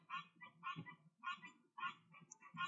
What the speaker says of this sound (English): Sorry for the birds, they're not agreeing with me today.